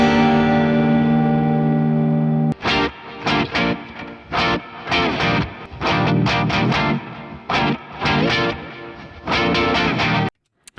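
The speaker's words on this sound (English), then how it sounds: "But yeah, the guitar sounds like this." Distorted electric guitar chords from a song draft, drenched in effects with echo and reverb, ring out in choppy bursts after a long sustained opening chord, loud and up front with no talking.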